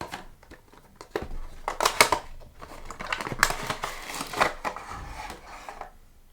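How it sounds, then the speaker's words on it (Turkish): Crinkly rustling and scraping of the cardboard box of POLOSMART PGS104 gaming wireless earbuds being handled and torn open, with a few sharp snaps and flaps, fairly close. "Kutumuzu açalım."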